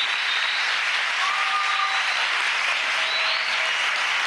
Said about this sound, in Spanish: para ellos pido el aplauso de todo nuestro pueblo